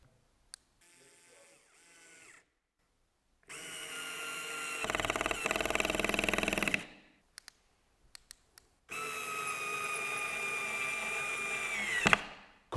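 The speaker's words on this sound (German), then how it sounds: "Mit dem hier haben wir es wie beim normalen Akkuschrauber, dass wir sagen können, naja, ich nehme jetzt mal das kleinste Drehmoment." A Bosch IXO cordless screwdriver fitted with a torque adapter whirs in close bursts: a short low run, then a longer high-pitched spin, a few clicks, then another sustained run that rises briefly before cutting off.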